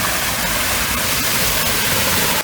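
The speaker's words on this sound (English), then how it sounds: "There's been some rain. The rains here are very heavy." A loud, unbroken roar of heavy rainwater rushing down a street in Pirenópolis, Goiás, Brazil, a dense wash of noise like a torrent pouring past nearby.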